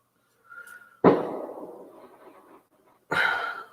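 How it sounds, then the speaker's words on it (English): Fireworks set off outdoors at night: two sharp, loud bangs about two seconds apart, each trailing off in a rumbling echo, with faint noise before the first. "People are blowing off fireworks."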